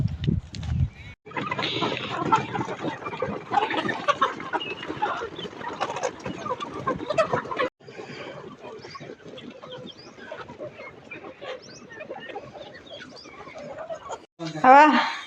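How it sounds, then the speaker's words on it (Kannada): Chickens clucking on a farm as grain is scattered for them in the morning, a busy, steady chorus of close clucks and calls lasting most of the stretch, with a brief louder burst near the end. "ಈಗ ನಾನು ಹೊಂಟೇನಿ ರೀ ಕೋಳಿಗಳಿಗೆ ಕಾಳು ಹಾಕ್ಲಕ್ಕ"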